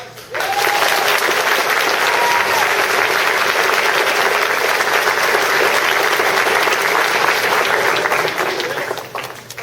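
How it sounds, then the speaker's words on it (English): Loud, sustained applause from a large crowd at a high school senior awards event honoring graduating cadets, starting abruptly and holding steady for several seconds before tapering off. "So please, ladies and gentlemen, give them a big round of applause."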